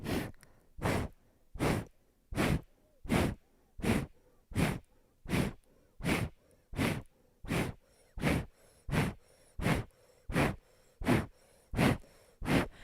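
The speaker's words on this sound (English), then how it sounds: "Keep the breath of fire going." Rapid rhythmic breath of fire from Kundalini yoga practice, sharp forceful exhales through the nose repeating steadily about every 0.7 seconds, close and clear with no talking.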